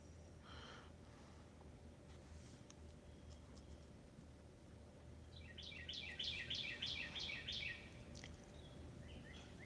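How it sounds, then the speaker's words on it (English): Cardinals chirp in the background near a house, a run of repeated bright whistled notes in the middle of the clip and a few more near the end over steady low room noise. "Got some birds chirping in the background."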